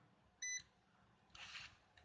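A digital multimeter in continuity mode gives a short, clean electronic beep once, followed by a brief burst of hissy noise and faint clicks in a quiet room during Xbox 360 controller repair.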